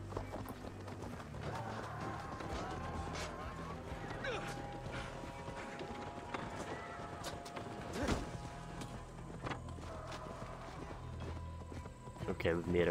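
Horse hooves clip-clop at a gallop in the Assassin's Creed Valhalla video game, a steady rhythmic patter running under game music and spoken dialogue throughout.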